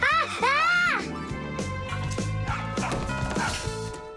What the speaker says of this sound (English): tell your rabbits that they can stop barking so loudly